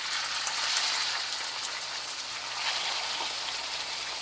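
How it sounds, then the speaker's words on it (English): Chicken frying in a pan gives a steady, even sizzle of fine crackling hiss, moderately loud and continuous throughout with no talking. "So now I can hear it sizzle a little bit."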